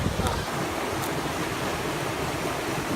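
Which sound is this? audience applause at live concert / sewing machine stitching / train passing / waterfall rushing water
waterfall rushing water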